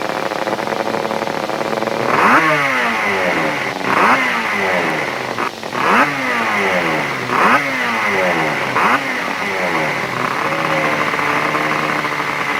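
A racing motorcycle on early test runs at the Carole circuit revs hard through repeated rising gear changes, loud and close, each climb cut by a shift before the next pull.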